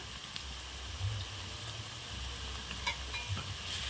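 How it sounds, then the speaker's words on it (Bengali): Onions and garlic paste fry in a pan over a wood-fired stove for biryani, a soft, low-level sizzle with occasional light stirring taps and scrapes. No voices. "পেঁয়াজ রসুন আমি আর একটু ভালোভাবে ভেজে নেব।"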